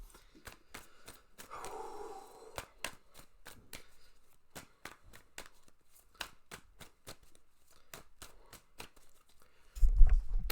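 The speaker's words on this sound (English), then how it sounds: "But I will shuffle your cards, Lenimus, and see what you got." Tarot cards being shuffled by hand, heard as a long run of crisp, evenly spaced flicks and riffles, close and fairly quiet, ending in a brief louder rumble.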